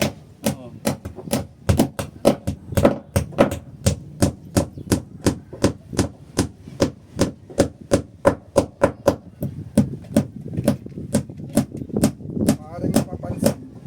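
Steady, rapid hammer blows striking over and over at a fairly even rhythm, close and loud, with a professional-grade hammer being used on building work.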